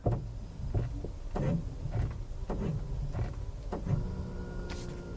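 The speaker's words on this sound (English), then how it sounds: "The brakes make an odd sound, listen." Brakes on a 2020 Toyota RAV4 SUV give off an odd mechanical noise, a string of short scraping or whirring bursts that repeat every half second or so, close and fairly loud, with no talk over them.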